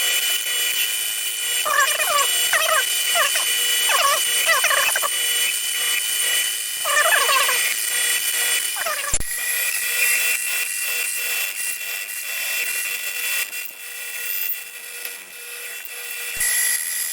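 A drill bores a 1/4 inch hole in metal by pecking, giving a steady high grinding whine with repeated short bursts of cutting in the first half, then continuous drilling.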